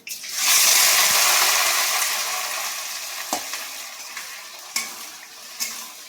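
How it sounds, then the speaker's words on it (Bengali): Sliced onions drop into hot oil in a pan, setting off a loud, bright sizzle that slowly fades to a steady crackle, broken by a few sharp clacks of a stirring spoon. "পেঁয়াজটাকে ভালো করে ভেজে নিই"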